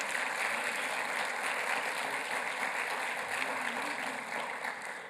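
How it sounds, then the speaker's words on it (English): An audience at a medical lecture on colon cancer applauds the speakers, a steady, dense wash of clapping that holds at moderate volume and fades slightly at the end. "let's give another round of applause for all the speakers today"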